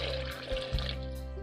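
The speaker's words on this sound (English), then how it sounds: "I'm gonna put some water in here." Water is poured into a container holding a banana peel, making a brief, close trickling and splashing sound with no talking over it.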